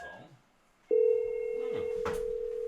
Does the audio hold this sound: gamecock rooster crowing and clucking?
no